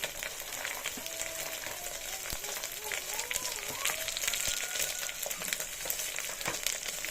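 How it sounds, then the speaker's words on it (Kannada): Onion, curry leaves and peas fry in a pan with a steady, crackling sizzle, broken by occasional stirring knocks and scrapes, close and continuous. "ಇದಕ್ಕೆ ಈರುಳ್ಳಿ ಹಾಕ್ಕೊಳ್ತಾ ಇದ್ದೀನಿ ಕರಿಬೇವು ಬಟಾಣಿ"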